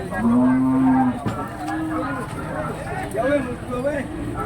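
Limousin cattle at a livestock market, one giving a long steady moo followed by softer lowing calls amid crowd noise and voices talking nearby.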